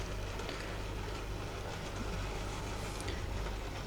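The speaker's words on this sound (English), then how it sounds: "the only thing we've got to do now is" An N gauge model train runs slowly around its track, a steady close whirring rumble with a low motor hum and faint clicking wheel noise, continuous and unbroken by speech.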